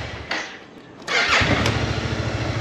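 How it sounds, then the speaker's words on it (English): A Kymco AK550 motorcycle engine cranks and fires up, settling into a loud, close, bassy idle with steady pulsing from the exhaust. "I hear a bassy note coming out of the exhaust"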